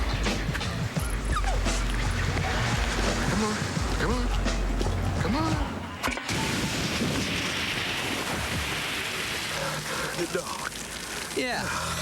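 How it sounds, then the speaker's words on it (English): A dog barks, yips and whimpers in a Sierra Mist lemon-lime soda TV commercial aired during a college football broadcast, the short yelps and whines coming up close amid busy background sound and talk. "I gotta get me a dog like that"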